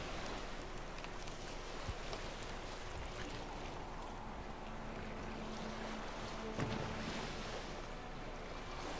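A boat moves along a river in The Witcher 3 video game, a continuous low wash of water and wind noise with faint creaks, fairly quiet and steady throughout.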